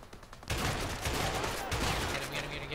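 Pump-action shotgun fire in the video game A Way Out, set at a mansion in Mexico, arriving as a sustained burst of loud, dense gunshots that starts abruptly and keeps going, with speech mixed underneath.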